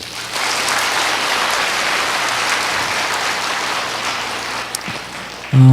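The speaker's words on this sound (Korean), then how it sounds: "또 여러분들도 크게 격려 박수 한번 부탁드립니다." A crowd of audience members gives a steady, dense round of encouraging applause at a public talk, even and sustained for about five seconds, ending with a voice starting to speak.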